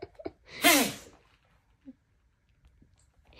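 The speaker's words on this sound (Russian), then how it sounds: "Чихули." A Rottweiler sneezes once during a bath, a sharp close burst preceded by a couple of short snorts, followed by quiet room noise with a few faint sounds.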